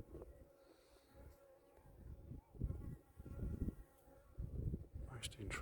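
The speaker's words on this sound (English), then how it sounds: "There's bees looking at that one as well." Several honeybees buzz around a skep in a steady, low hum that swells and fades as they move about, with a soft voice murmuring in the background.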